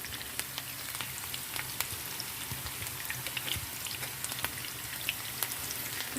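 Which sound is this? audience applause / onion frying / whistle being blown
onion frying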